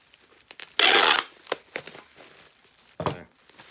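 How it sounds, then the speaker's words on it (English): Packing tape pulled from the roll and pressed onto a cardboard shipping package: one loud, close tearing screech, followed by softer crinkles and a second shorter strip. "Now I'll go ahead and tape that off."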